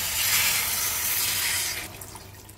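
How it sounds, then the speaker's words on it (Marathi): Hot water poured from a vessel into vegetables already fried in oil for Kolhapur-style bhogi bhaji, a steady close splashing pour for nearly two seconds that then tapers off to quiet. "त्यामध्ये आपण गरम पाणी ओतायचं आहे"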